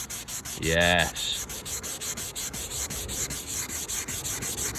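Rhythmic rubbing of 600 grit sandpaper on a plastic headlight lens from a small hatchback, close and steady back-and-forth strokes, with one short spoken word near the start.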